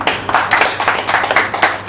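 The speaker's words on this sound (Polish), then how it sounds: "Wielkie brawa dla naszego Pawła Karczmarza." A group at a motorcycle rally applauds Paweł Karczmarz, brisk rhythmic clapping close by that pulses in fairly even waves, with no talking.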